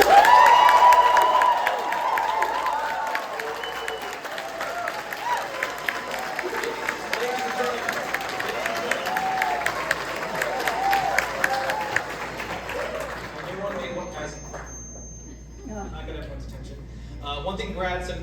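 Audience at a 2024 Indian River County sheriff debate breaks into clapping and cheers, strong at first and then fading, with a voice speaking over the tail end.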